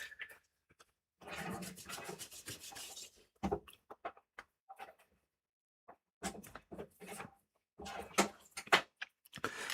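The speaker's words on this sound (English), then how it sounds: "Going to clean up that thermal paste a little bit." Thermal paste being wiped and scrubbed off a component during an electronics repair, intermittent bursts of close rubbing and scratching strokes separated by short pauses.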